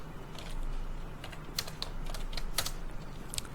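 Rapid typing on a computer keyboard, with soft irregular key clicks in quick bursts and a few sharper strikes, heard close and alone over a low room hum.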